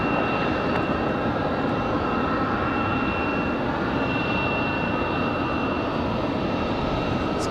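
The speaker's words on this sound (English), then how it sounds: "Alright, should be AeroMexico coming up." An AeroMexico jet approaches RDU airport in windy conditions, a steady loud engine roar with a high whine throughout, unbroken and without talk.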